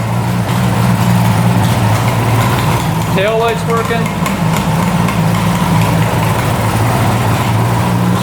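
A 1975 two-stroke triple motorcycle engine, restored after sitting for decades, idles steadily with a low, even drone throughout, while someone speaks briefly over it.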